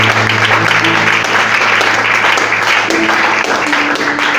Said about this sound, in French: Est-ce que tu peux acclamer en faisant le plus?